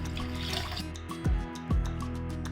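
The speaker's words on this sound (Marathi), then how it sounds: "त्याच्यामध्ये थोडंसं पाणी घालते मी." Cold water is poured into ground green chutney for Mumbai-style pani puri, giving close, quiet liquid trickles with a couple of short, distinct dripping plops and no talk.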